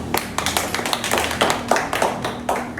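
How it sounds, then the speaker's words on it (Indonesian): A group of children claps hands in an uneven, scattered rhythm, close by, with no talking over it; the claps come as loose bursts for a few seconds. "yuk tepuk tangan buat Tingurah."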